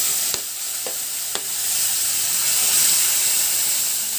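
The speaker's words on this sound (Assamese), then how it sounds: "এতিয়া মোৰ তেল প্ৰায় গৰম হৈছে। মই ইয়াতে মোৰ তেল গৰম হৈ গৈছে। ইয়াতে মই পেষ্ট কৰি ৰখা পিঁয়াজখিনি দি দিছোঁ।" Onion paste frying in hot mustard oil, a loud continuous sizzle and hiss with a few light clicks of a utensil against the pan early on.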